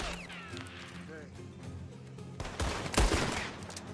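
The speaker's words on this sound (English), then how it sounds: "This is a warning shot." A single warning gunshot cracks out loud and close in Red Dead Online, a sharp burst with a short echoing tail, following quieter game ambience and a voice speaking earlier.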